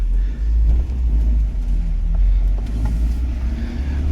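A Geo Tracker convertible with a cable clutch and jumpy throttle driven top-down on a partly cloudy day, giving a steady low engine and road rumble that holds near and constant throughout, with no talk.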